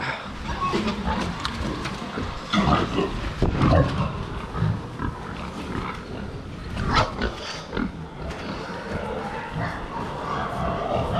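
Pigs grunting and snuffling up close in a noisy barn, with someone speaking over them now and then.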